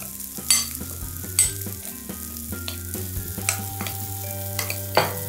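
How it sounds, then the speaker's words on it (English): Tofu sizzles in a hot pan while a spatula stirs it in repeated scraping strokes, with sharp clinks at intervals over a steady frying hiss; no one speaks. "So stir up the tofu."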